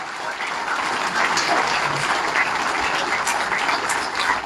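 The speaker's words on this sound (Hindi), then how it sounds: "ताली की गूंज इतनी आनी चाहिए कि मोदी जी को पता चले जम्मू वालों ने कोई धन्यवाद किया है" Sustained applause from an audience in a hall at Jammu Club, steady and dense throughout, with no voices rising above the clapping.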